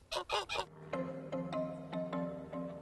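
Geese honk nearby, a quick run of three loud calls followed by a slower series of nasal honks, with no voices.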